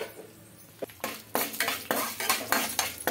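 Chana dal and urad dal dropped into a little hot oil in a pan for bitter gourd spice powder, heard as a burst of dry rattling followed by quick metal scrapes and clinks of stirring over a faint sizzle, close up, no voices.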